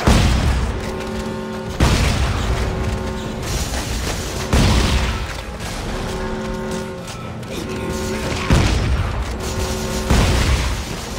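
Shotgun blasts boom repeatedly in the co-op Dead Space 3 game, loud sharp reports every two seconds or so, each followed by a mechanical pump clack, over a dense din of sci-fi combat.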